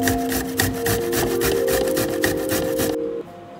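Fresh ginger is grated in quick repeated rasping strokes, close and fairly loud, with a faint steady hum underneath, before the scraping stops near the end.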